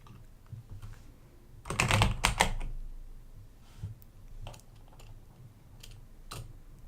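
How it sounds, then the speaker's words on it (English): Fingers rattle across a computer keyboard in a dense burst of rapid keystrokes near the middle, surrounded by scattered single key taps and quiet pauses. "I'm just like dragging my fingers across the keyboard."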